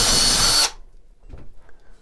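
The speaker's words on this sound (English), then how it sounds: "we're just going to be drilling holes into each of these corners" A power drill bores into the corner of a drywall sheet during a half-bath renovation, a loud, dense whir lasting under a second before cutting off to near silence with faint rustling.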